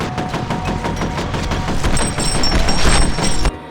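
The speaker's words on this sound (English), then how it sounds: "The assault rifle just seems to shred enemies." Sustained assault rifle fire in the shooter game FEAR, a loud, fast stream of shots with heavy low booms mixed in and a brief metallic ring near the end before it cuts off abruptly.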